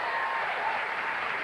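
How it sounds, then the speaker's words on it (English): A late-night talk show studio audience applauds, a steady, distant wash of clapping with no voices on top. "They applaud like they had a piece of it."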